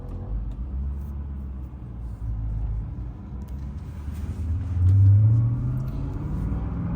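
A 2002 BMW Z8 drives along the road, its engine a low, steady rumble with road noise that swells briefly as it pulls harder midway, heard from inside the car without talking.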